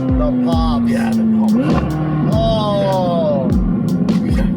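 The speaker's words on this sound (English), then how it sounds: "This thing pops and burbles." McLaren 720S exhaust crackling with sharp pops and burbles between loud engine revs and gear changes, close and continuous, with people talking over it.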